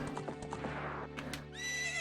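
A horse in an N64 video game gives a loud whinny over rhythmic clip-clopping hooves, the galloping steady beneath before the high neigh rises near the end.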